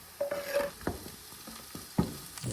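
Peppers fry with onion and garlic in a pan, a soft steady sizzle broken by several sharp scraping stirs of a utensil, heard up close with no talking.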